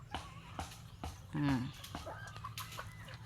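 Chickens cluck in the background while people talk, with one louder bird call standing out briefly near the middle.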